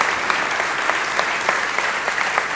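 Audience at a NEXT17 conference talk gives sustained applause, a dense, even wash of clapping from a large crowd heard throughout.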